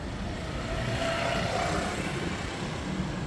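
A Honda Scoopy motor scooter passes on a street in Jomtien, Pattaya, Thailand, its small engine drone rising and fading against steady traffic and wind noise, with no talk.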